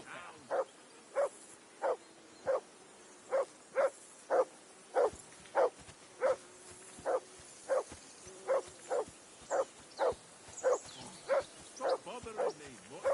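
Steady rhythmic barking from a dog in Kingdom Come Deliverance 2, about twenty evenly spaced barks at moderate distance repeating without pause.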